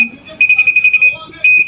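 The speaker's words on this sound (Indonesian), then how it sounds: "Buzzernya bakal lebih kencang untuk bip bunyinya." Buzzer on an ultrasonic parking sensor project beeps in a fast run of about nine short, shrill pulses, then sounds one sustained tone, loud and close.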